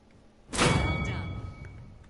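A grenade is thrown in the PS4 beta of the shooter Paladins, landing as one loud, sudden thud that swells into a broad burst and then trails off in a long, fading rumble with a thin ringing tone.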